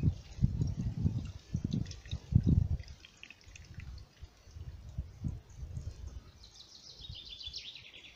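Homemade apple vinegar drips and trickles through an oil strainer in soft, close liquid patters, with faint chirping sounds near the end.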